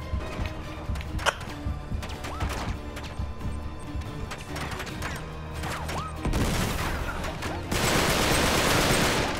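Bursts of gunfire and crashing impacts from the Uncharted video game rattle through a fierce firefight, with sharp single shots early and a dense, loud barrage building toward the end.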